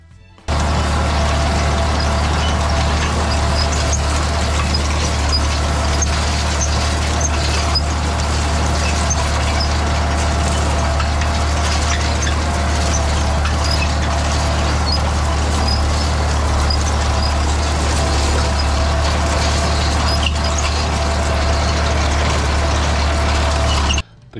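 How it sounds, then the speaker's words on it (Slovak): A tractor engine runs steadily while raking hay in a field, a loud, constant low drone with mechanical clatter that holds without a break for the whole stretch. "presadám na druhý traktor a ideme hrabať."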